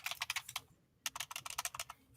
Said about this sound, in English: I'm typing as fast as I can because I have an idea.